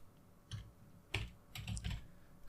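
Someone typing on a computer keyboard in short bursts of clicky keystrokes, quiet and close, with pauses between groups of keys and no talk.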